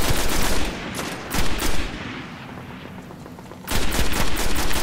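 Rapid automatic gunfire from the Destiny video game plays in close, loud bursts, with a lull in the middle before the shooting resumes.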